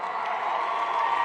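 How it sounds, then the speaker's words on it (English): A large campaign rally crowd in Cedar Rapids, Iowa, cheering and applauding, a loud, dense, continuous roar of clapping and shouting. "Give yourselves a big round of applause."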